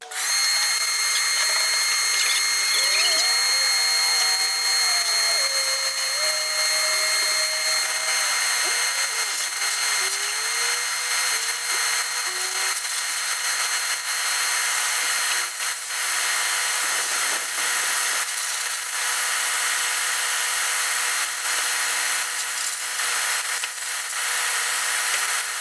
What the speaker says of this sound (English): I'm going to kick on the vacuum so it's going to get loud